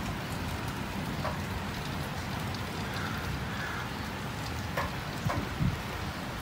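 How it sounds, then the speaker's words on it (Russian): Steady rain falls in California in a dense, even hiss, with a few heavier drips and taps standing out near the end. "В общем, дождик такой приличный."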